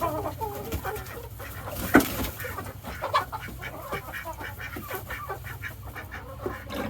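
Chickens in a coop cluck and squawk nervously after a light is switched on. Several birds call close by in overlapping, uneven clucks, with one sharper squawk standing out.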